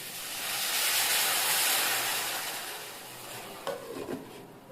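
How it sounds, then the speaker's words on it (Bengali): Water poured into a pan of sizzling spice masala sets off a loud, steady steam hiss that swells and slowly fades, with a few clattering stirs near the end. "এবারে আমি একটু জল দিয়ে দেবো।"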